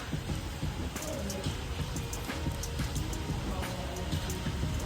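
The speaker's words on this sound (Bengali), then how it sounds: "দেখো ঝিপ ঝিপ ঝিপ ঝিপ করে বৃষ্টি পড়ছে" Light rain falls steadily outdoors, a dense and even patter that stays constant throughout with faint scattered drips on top.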